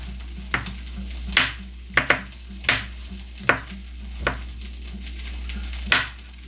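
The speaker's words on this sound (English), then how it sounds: "I'm gonna cut these up in some little cubes" Knife chopping potatoes into small even cubes for a Cajun andouille sausage and shrimp skillet, with about ten sharp, close taps on a cutting board spaced irregularly over a steady low hum.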